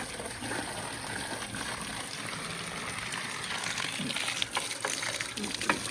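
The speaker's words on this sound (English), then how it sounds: "Put the hose back in the tub so I have water in the tub." Water from a hose runs steadily into a tub, a continuous broad gushing wash with faint sounds in the background.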